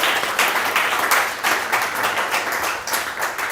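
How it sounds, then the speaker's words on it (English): Audience applause after a talk fills the room with dense, steady clapping that swells and dips slightly, without voices, for a few seconds. "Give me a round of applause."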